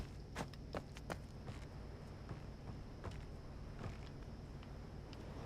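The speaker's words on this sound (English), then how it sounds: "They sound like footsteps." Footsteps in the video game Obduction, a series of irregular hard steps over a low constant background hum, fairly close and moderate in level.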